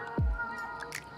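A single low drip of brewed coffee falls from a Geometry filter brew bed, then a faint trickle follows in a quiet, close setting.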